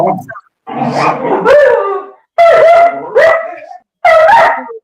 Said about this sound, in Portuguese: Olha o cachorrinho do time.